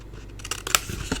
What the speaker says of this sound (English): if you want to fold your cardstock in half, you can cut them 2 at a time